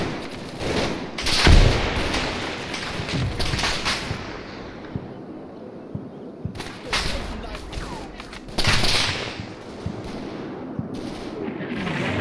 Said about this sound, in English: His mortar rounds and mine.